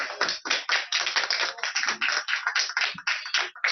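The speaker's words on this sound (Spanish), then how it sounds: "Muchísimas gracias, un fuerte aplauso." Applause from a small audience at the close of a psychosocial care lecture, a brisk run of close, sharp hand claps lasting a few seconds with no voices over it.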